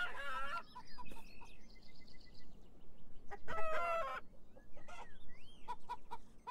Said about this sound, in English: Oh, chickens. Chickens are funny.